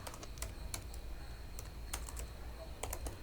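PHP code being typed on a computer keyboard makes quick, uneven key clicks in short runs, quiet and close, with no voice.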